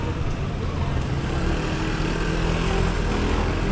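A motorcycle engine runs steadily and fairly loud while the bike is moved into a parking spot, a continuous broadband drone with low rumble throughout.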